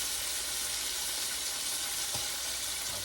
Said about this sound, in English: Let the bacon go and start cooking first. Let the butter go and start melting.